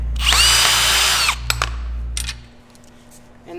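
A power drill runs loud and close while removing a bolt from a tent crossbar, whining steadily for about a second before cutting off, followed by a few sharp metallic clicks and knocks.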